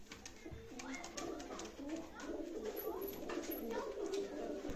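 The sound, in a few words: pigeons cooing at a Baku bird market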